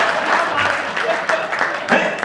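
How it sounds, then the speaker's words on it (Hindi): Audience at a Hindi comic poetry performance clapping for the host, a brief, close burst of dense applause with voices mixed in. "एक बार उनके सम्मान में जोरदार ताली बजा दीजिए"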